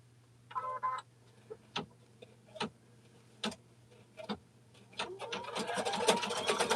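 A sewing machine stitches through thread it has been fussing with during a quilting session, giving a few sparse clicks and taps before breaking into a steady, louder whirring run of stitches near the end.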